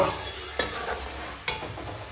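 Mango chutney cooking in a pan is stirred, a soft continuous sizzle with two sharp scrapes of the spoon against the pan about a second apart, close and moderately loud.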